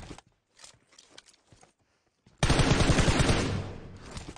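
Loud, dense burst of automatic gunfire in PUBG Mobile erupts after a few quieter footsteps and taps, then fills the rest of the clip with rapid, rattling shots.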